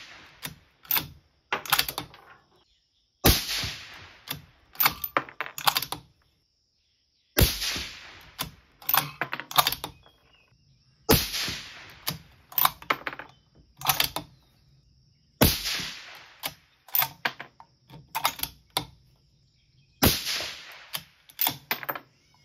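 Rifle shots fired at a target, a series of sharp, loud cracks, each followed by a brief echoing tail, coming in spaced bursts with short silences between them.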